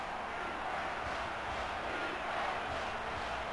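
Steady, dense stadium crowd roar from the NCAA Football video game during a Navy Midshipmen vs West Virginia Mountaineers matchup, a constant wash of noise with no breaks.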